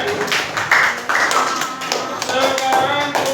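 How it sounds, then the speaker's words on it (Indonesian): Students in an Indonesian classroom give a round of applause, a short burst of overlapping claps, fairly loud and near, with some voices mixed in. "Kasih tepuk tangan yang meriah semuanya."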